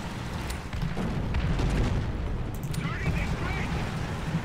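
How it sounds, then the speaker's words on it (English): Artillery shells exploding in the War Thunder video game make deep, rumbling booms that build into a loud, sustained low roar. The blasts blend with ongoing battle noise. "Calling artillery literally on my position."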